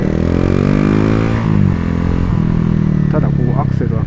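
A Honda CRF250L motorcycle engine revs and climbs in pitch as the throttle opens, a loud steady drone with rising harmonics, and a voice talks over it near the end.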